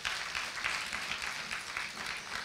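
A church congregation claps together during a sermon, a dense, steady wash of many hands sounding fairly close and continuous throughout.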